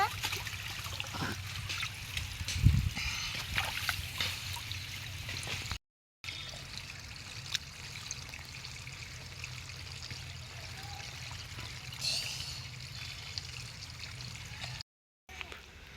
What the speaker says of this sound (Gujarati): પાણી ચાલુ છે તો કચોરી ખાઈ આવીએ